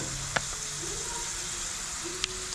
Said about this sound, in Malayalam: എല്ലാം കൂടി നന്നായിട്ടൊന്ന് മൂപ്പിച്ചെടുക്കാം